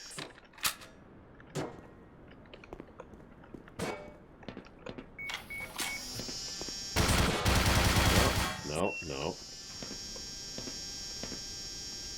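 Automated turret fire in the video game Black Mesa, a run of sharp shots and a dense burst of rapid firing, with a low steady hum underneath and a brief spoken remark.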